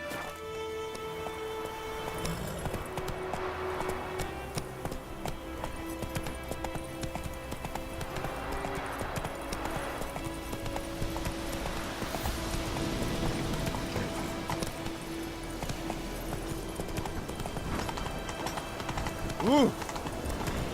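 Horse hooves clip-clopping in The Witcher 3, a steady, moderately close rhythm of hoofbeats running throughout beneath game music and occasional talking.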